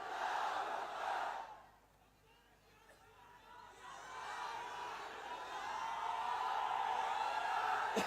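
A large crowd at a political rally in Malegaon roars in unison in answer to the Nara-e-Takbir slogan, a loud swell of massed shouting that briefly dips, then rises again into sustained cheering.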